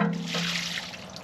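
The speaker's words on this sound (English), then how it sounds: "Get some of this water out of the bucket." Water pours out of a Case backhoe loader bucket in a short, steady gushing trickle, close and fairly loud with no voices.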